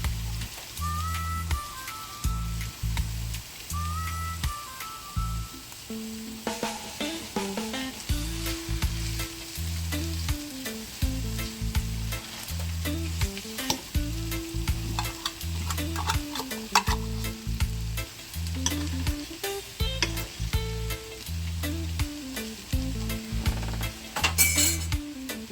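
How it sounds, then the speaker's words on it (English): Corned beef frying with onion and garlic for corned-beef hash, a continuous sizzle under a regular, rhythmic scrape and clink of a utensil stirring against the pot, close and fairly loud. "So I'm gonna add my beef, my corned beef to my onion and garlic."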